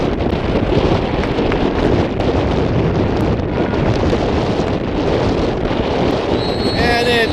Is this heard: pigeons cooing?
no